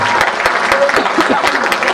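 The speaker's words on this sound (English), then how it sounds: "I want a nice round of applause for Frank. Come on. Put your hands together." An audience at a Villa Roma idol singing show gives a round of applause for a performer named Frank, steady dense clapping filling the room with a few louder individual claps and faint voices mixed in.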